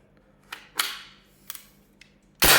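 A BB gun firing 6 mm 0.2 g pellets gives sharp, isolated cracks at irregular intervals, several quick snaps and a louder final burst, close and crisp against a quiet background.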